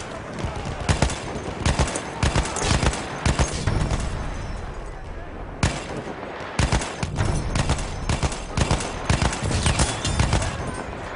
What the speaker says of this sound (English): In Battlefield 1, what a powerful gun.